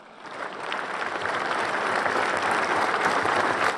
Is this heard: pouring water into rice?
no